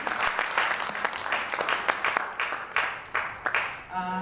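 Applause from a crowd, steady clapping throughout that fades toward the end, with a voice briefly audible at the close.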